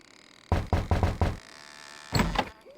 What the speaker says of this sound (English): I think I'll knock.